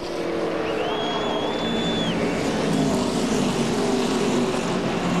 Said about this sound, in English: the 42 car of A.J. Allmendinger and the 88 car of Brad Keselowski were together. Pretty close getting into the corner.